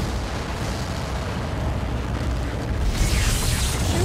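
Fire roaring in the Dead Space video game, a dense continuous rumbling blaze that swells slightly louder toward the end, steady and loud with no voices over it.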